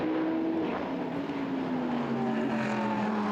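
Endurance touring cars braking into the tight hairpin at the Hungaroring, a steady, dense engine roar with a slowly falling pitch as the pack passes, no pauses throughout.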